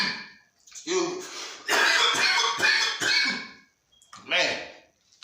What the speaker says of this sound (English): that Corona got me coughing